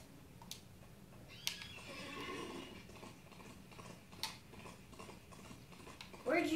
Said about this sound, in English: I get an invisible horse.